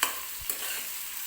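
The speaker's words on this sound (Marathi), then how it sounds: "तर हलकासा मऊ होईपर्यंत मी हा कांदा भाजून घेणार आहे तेलामध्ये" Onion sautés gently in oil for a Marathi potato bhaji, a brief steady sizzling hiss with a couple of soft stirring knocks near the start.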